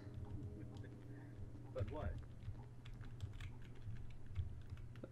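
Keys clatter on a new backlit computer keyboard set up as a 90-key layout, with faint scattered clicks under game music and a low steady hum.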